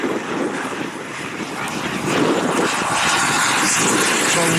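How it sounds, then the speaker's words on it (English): Large-scale model Cougar jet lined up and taking off down a runway at a scale-jet flying event, its turbine whine and rushing roar building steadily louder over a few seconds, with wind buffeting the microphone. "the second one is lined up on the runway now, which is the orange Cougar"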